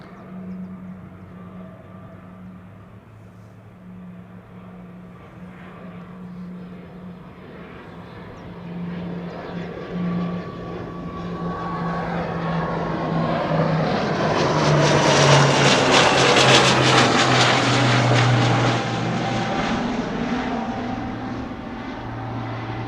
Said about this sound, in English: So this is Excellent Air, arriving from ANR.